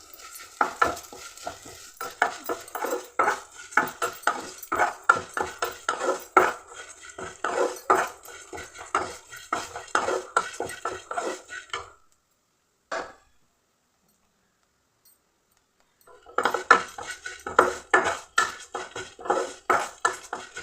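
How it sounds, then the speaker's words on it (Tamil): Flattened rice (aval) being roasted in ghee in a pan for carrot aval payasam, with a spatula scraping and clinking in quick, close, rhythmic strokes over a soft sizzle, then a silent pause before the stirring starts again. "இப்போ இதே கல்லில் நான் இந்த அவளையும் போட்டு வறுத்துக்கிறேன் நெய்யிலேயே அரைச்சிக்கலாம் அவளையும்"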